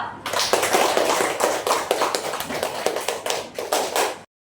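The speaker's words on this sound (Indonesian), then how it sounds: "Tepuk tangannya dulu" A class of children clap their hands together in a classroom, a burst of brisk, fairly close clapping with some uneven rhythmic accents that fades slightly before stopping abruptly.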